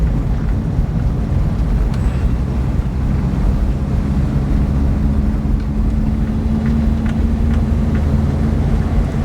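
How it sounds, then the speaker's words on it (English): The smooth engine of a Triumph 1300 FWD hums steadily from inside the moving car. A low drone and faint tonal whine run beneath heavy wind and road rush, with no talking. "The engine's got a lovely smoothness about it."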